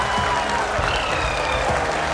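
ISRO scientists applaud the Chandrayaan-3 moon landing with loud, sustained clapping from a crowded room, mixed with a few cheers and a background murmur.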